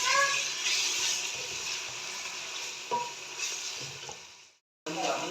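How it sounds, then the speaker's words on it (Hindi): Chicken pieces seasoned with salt and turmeric frying in a pan for a Pakistani dal chana chicken dish, a steady hiss and sizzle with occasional stirring clicks, cutting out briefly before resuming. "अभी चिकन को मैं 2 से 3 मिनट के लिए अच्छे से फ्राई करती हूँ"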